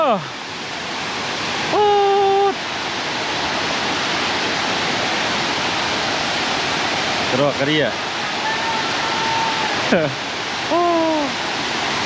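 A steady, loud rush of falling water from Tad Sae Pha waterfall in southern Laos fills the whole clip, with a person talking briefly over it and short whistling tones rising above the roar.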